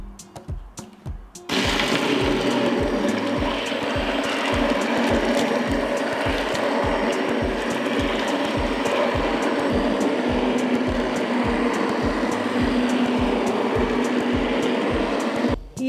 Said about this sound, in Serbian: I sada ću šljive usitniti sa štapnim mikserom.